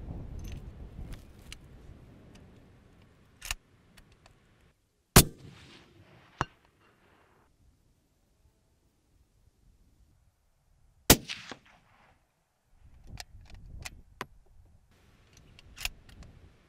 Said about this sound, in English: We'll take another shot at these targets